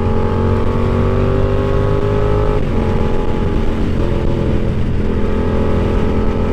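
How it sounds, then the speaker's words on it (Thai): A Yamaha YZF R7 motorcycle exhaust as the throttle eases off, a loud engine drone whose pitch drops and settles, with small burbling pops as revs fall, no voices. "พอผ่อนคันเร่งแล้วแบบเสียงท่อมันมีตดตั้งๆนิดหน่อย"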